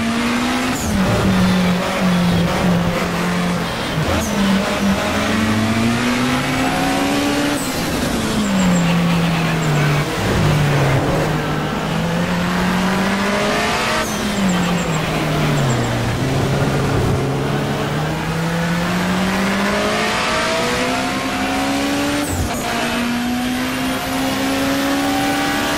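Race car engine in the rFactor sim racing game, loud and continuous, its pitch climbing and dropping through repeated upshifts and downshifts with brief lifts under braking, alone without voices.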